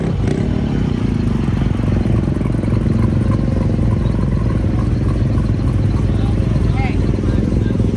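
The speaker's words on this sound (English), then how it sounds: "this old industrial wore-out diesel engine" A worn-out industrial diesel engine of about 200 horsepower on a John Deere pulling tractor runs steadily and loudly throughout, a dense continuous engine roar with clatter, while people talk over it.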